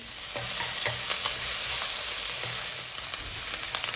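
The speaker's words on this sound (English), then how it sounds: "Heat up a pan, add in a little bit of oil. This is 10 grams of young ginger, minced up, put it in." Minced young ginger sizzles and crackles steadily in a little hot oil in a pan, a close, continuous frying hiss with faint stirring scrapes underneath.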